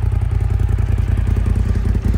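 Side-by-side utility vehicle idling and running in the mountains, a loud, close, rhythmic engine chugging with steady pulsing beats and a faint clatter, no talking.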